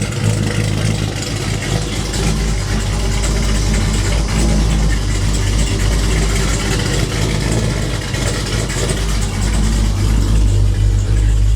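A TorqStorm-supercharged built 392 HEMI engine in a RAM truck idles with a deep, loud, steady rumble and a constant low throb, with no voices.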